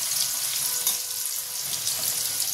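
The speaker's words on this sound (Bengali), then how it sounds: "চলো আলুগুলো তাহলে ভেজে তুলে নিই।" Small diced potatoes frying in hot oil with salt and turmeric, a steady close sizzle and crackle running throughout with no talking.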